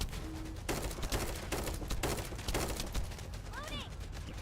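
Sniper rifle shots in a video game crack out in a rapid run of sharp bursts amid dense battle noise and other gunfire, with chirping effects near the end.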